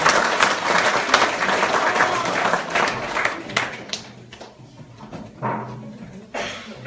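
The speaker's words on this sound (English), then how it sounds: "Let's give a big clap for Jesus." A congregation at a Christmas church service in Sacramento applauds, dense clapping that slowly thins out into scattered claps, with some voices audible underneath.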